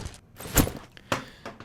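A game character landing a jump in Unreal Engine 4 with FMOD foley: two loud, close thuds about half a second apart, with fainter step-like taps around them and no voices.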